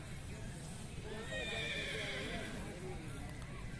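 A mare at a horse market whinnies loudly and close, with hoof clip-clops and voices mixed into the busy background.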